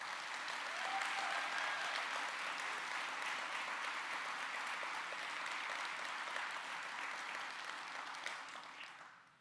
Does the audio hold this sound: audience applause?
yes